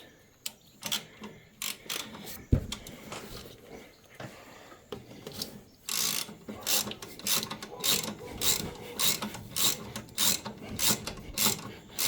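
A 14mm socket on an extension ratchets a nut tight on the deck clutch of a Husqvarna Z560X mower, a quick regular series of close clicking ratchet strokes after some handling knocks, no talk.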